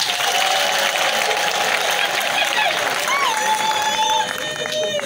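A crowd at an official installation ceremony in Minembwe, Congo, breaks into loud, sustained applause that fills the whole stretch, with voices and shrill whistles rising above the clapping.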